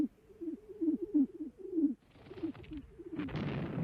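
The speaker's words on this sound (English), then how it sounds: "Thousands of birds were held ready in mobile pigeon lofts like this." Carrier pigeons in a mobile field loft during the 1916 Battle of the Somme, several rhythmic low coos repeating close by, followed by softer cooing and a rising rustle of noise.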